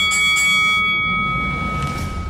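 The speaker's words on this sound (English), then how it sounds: "Ring the bell." A bell rings to open a Q&A segment on a futures-market show, with two quick strikes near the start and a sustained metallic tone that rings on steadily to the end.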